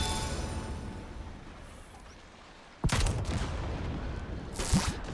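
A Kv-2 tank cannon fires twice in the video game Trailmakers, each a sudden loud blast with a rumbling tail, the first near the middle and a second a couple of seconds later, rising out of steady engine-like background noise.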